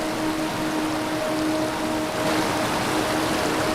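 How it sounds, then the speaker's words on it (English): Waterfalls cascade across Iceland's rugged landscape in a dense, steady roar of rushing water, loud and unbroken, with a faint tonal hum running under part of it. "Across the rugged landscapes of Iceland, waterfalls cascade in every direction"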